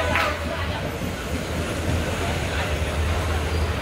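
A train rumbles in with a steady low roar that holds throughout, beneath a broad wash of station noise.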